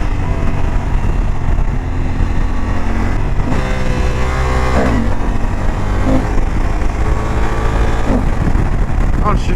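A 2024 Honda Africa Twin twin-cylinder motorcycle engine revs loudly up close while riding, with rising and falling pulls and quick shifter gear changes, a rider's voice heard over it.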